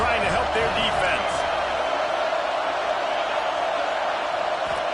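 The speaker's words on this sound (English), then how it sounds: "Listen to this crowd just shaking the girders of this place, trying to help their defense." Stadium crowd roaring in a college football video game, a broad sustained rumble of cheering under a commentator's voice, steady and loud throughout.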